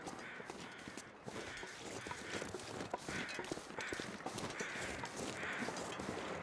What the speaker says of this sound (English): I hear lots of carrion crows